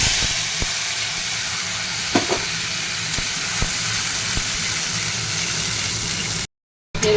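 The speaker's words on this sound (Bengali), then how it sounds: "আর এখানে দিয়ে দেবো এই বাটা মশলাটা" Ground spice paste of ginger, green chili and tomato with coriander, cumin, chili and turmeric powders sizzles in hot oil with whole garam masala and bay leaves, a loud steady hiss with a few light clicks, cut off briefly near the end.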